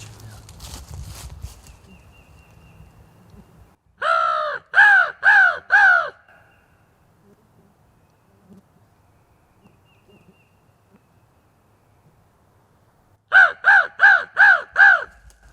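Crow cawing in the woods during a spring turkey hunt: two clear bursts of about five loud, harsh caws each, separated by a long quiet stretch.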